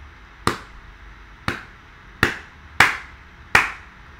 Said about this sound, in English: So you can see that when I clap